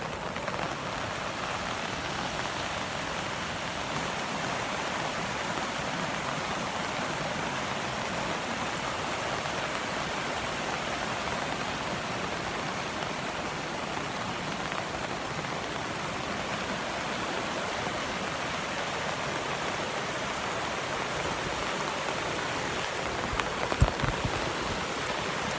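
Fast-moving creek swollen after heavy rain, a steady close rush of water that holds an even level throughout, with no voices.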